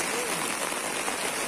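Rain falling steadily during a hike on Mount Gede via the Putri route, a dense continuous hiss of drops close by, with faint voices underneath.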